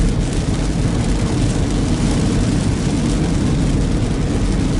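Rain falls steadily during a car drive around Newberry, Florida, making a dense, loud, unbroken roar of rain and road noise close around the vehicle with no talking.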